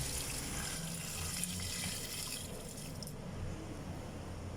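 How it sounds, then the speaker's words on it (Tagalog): Water is poured into a clogged floor drain clean-out pipe during plumbing work, a soft continuous splashing and gurgling wash that runs quietly and evenly throughout. "Try natin busan ng tubig guys. Para malaman natin kung barado siya o hindi."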